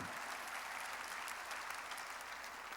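A church congregation at a worship service bursts into steady applause, a dense wash of clapping that stays even and fairly distant for a few seconds with no voices above it.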